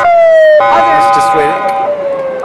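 An ambulance siren wails loud and close in a street in Egypt, its steady tone shifting pitch as it passes and fades slightly toward the end.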